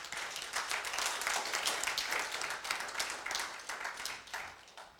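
Dense applause from a church congregation, steady and sustained, heard from a little distance with no pauses.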